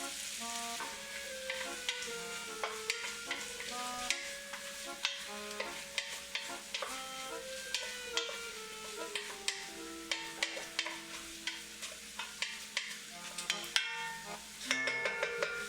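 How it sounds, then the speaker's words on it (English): Onions sizzle and fry in a pot for butternut squash soup, a continuous crackling hiss with a spoon stirring and tapping over it and music playing along. "Let your onions simmer."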